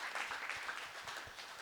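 Applause from a seated audience at a Hindi religious sermon, steady dense clapping throughout the short stretch, moderately distant with no talk.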